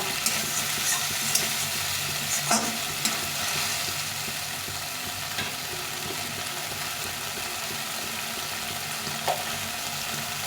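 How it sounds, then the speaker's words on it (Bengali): Mustard paste with a splash of water and spices fries in a pan for a Bengali fish curry with potato and brinjal, a continuous low sizzle with occasional spoon taps and scrapes, close by. "একটু ভালো করে একটু কষিয়ে নিতে হবে"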